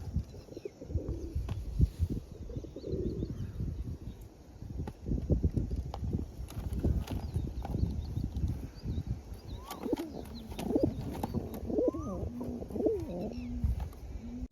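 Pigeons coo softly and repeatedly, with wing flutters and pecking noises close by; a voice is heard faintly in the background.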